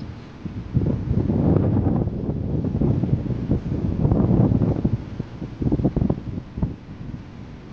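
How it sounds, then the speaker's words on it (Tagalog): Strong wind buffets the microphone in loud, gusting rumbles that rise and fall over several seconds, with no voices heard. "Malakas po ang hangin."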